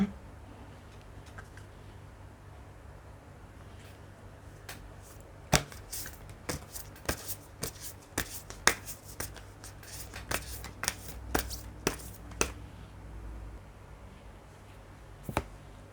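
Tarot cards are handled and laid down in a series of crisp, separate slaps and flicks that cluster near the middle, each one sharp and close against a quiet background, with no talking.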